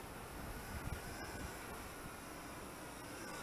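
Cheerson CX-35 FPV drone in flight, its motors straining to hold altitude: a steady, dense whirring buzz that holds at an even level throughout with no voices, heard from a little distance.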